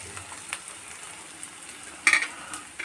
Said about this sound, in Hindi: मैंने प्याज टमाटर फ्राई किया है